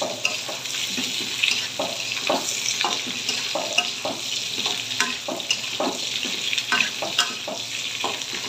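Olives added to hot oil in a pan for a sweet-sour-spicy olive pickle, giving a steady close sizzle with regular scraping stirs of a spoon throughout, with no talk over it.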